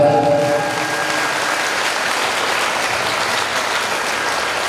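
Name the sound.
audience applause welcoming a guest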